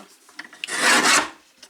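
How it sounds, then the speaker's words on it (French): A paper guillotine trims cardstock in one short, close rasping cut, with faint handling clicks before and after it. "Alors moi, je prends la guillotine"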